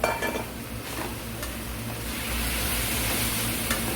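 Marinated beef neck for red holy-basil stir-fry sizzles and spatters loudly in a hot wok, a continuous close frying hiss with scraping stirs and a few metallic clinks, no talking.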